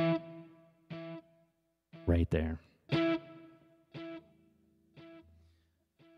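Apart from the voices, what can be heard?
electric guitar with multi-point delay effect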